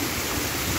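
Heavy rain falls over the town centre of Limoeiro do Norte, Ceará, a brief burst of loud, steady rushing hiss, close and continuous.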